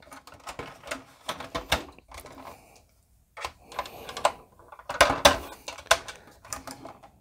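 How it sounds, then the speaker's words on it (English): Plastic parts of a Kenner Batman Forever vehicle toy snap and click together in a series of sharp, close taps and clicks, with a brief pause midway. "you'll hear it click just like that"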